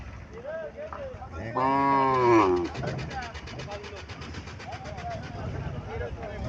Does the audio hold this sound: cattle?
yes